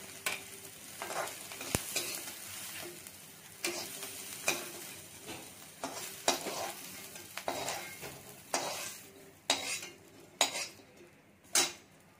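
Fresh grated coconut stir-fried in a pan for a spicy chicken curry: a low sizzle under repeated sharp clinks and scrapes of a spatula against the pan, close and uneven in rhythm, with no speech.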